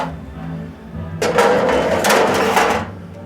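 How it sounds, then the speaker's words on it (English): Metal ash pan slid back into a Glenwood coal base heater, a close scraping metallic rattle lasting about a second and a half after a quiet start. "I better put the ash pan back in there"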